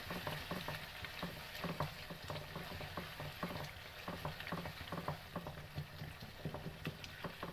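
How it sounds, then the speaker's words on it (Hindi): Tomatoes softening in a covered pan for mutton liver masala, a quiet, even frying sizzle with frequent small pops and crackles running steadily throughout. "दो मिनट तक हम कवर करेंगे और कवर करके पकाएंगे ताकि टमाटर अच्छे से सॉफ्ट हो जाए"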